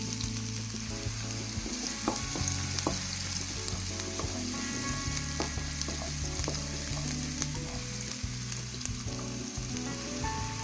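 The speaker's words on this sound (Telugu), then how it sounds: "ఆయిల్ అయితే గరం అయిపోయింది ఇప్పుడు ఏంటంటే కట్ చేసిన ఉల్లిగడ్డలు అయితే వేస్తున్నాను" Chopped onions frying in hot oil for a brinjal and dry prawn curry, a dense continuous sizzle with occasional stirring scrapes, close and steady throughout with no talking.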